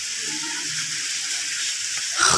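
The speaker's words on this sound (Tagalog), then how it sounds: "ayan yung tubig na galing doon sa taas" Water flows down from above at a beach resort in Mariveles, Bataan, Philippines, a steady rushing splash that holds constant and close with no pauses, a brief louder knock near the end.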